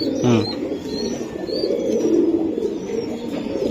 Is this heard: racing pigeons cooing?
yes